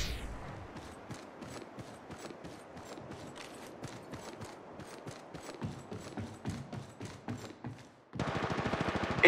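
Apex Legends gunfire in a ranked match, played on an iPad Mini 6: a long string of quiet rapid shots and bursts with uneven spacing, ending in a louder dense burst near the end.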